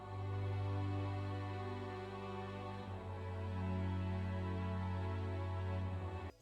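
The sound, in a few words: strings and choir playing sad chord progression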